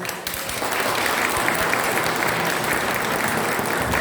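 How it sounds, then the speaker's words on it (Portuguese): Applause from a church congregation at a Saint Anthony festival mass in Brazil, welcoming the parish priest; steady, dense clapping fills the whole stretch, loud and close. "nós vamos receber o nosso pároco aqui com uma salva de palmas"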